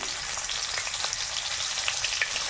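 Pumpkin and chopped onion fry in a pan with a steady, close sizzle and fine crackles throughout, fairly soft and unbroken, with no talk.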